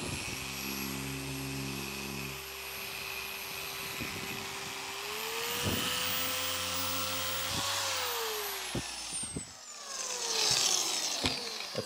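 An electric polisher works on an acrylic truck camper window, a steady whirring drone that shifts pitch as the speed changes and the tool presses on the surface, with a few faint knocks near the end.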